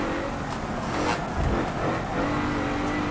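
A Mercedes-Benz AMG GT-R in Forza accelerating hard, its engine droning steadily near and loud with a brief surge midway, tyre and road noise underneath and no talking.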